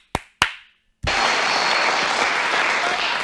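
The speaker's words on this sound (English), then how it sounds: "Yeah, let's hear it for our contestants." Two sharp isolated claps ring out, then after a short pause a full audience bursts into loud, sustained applause for game-show contestants, a dense even roar of clapping that continues to the end.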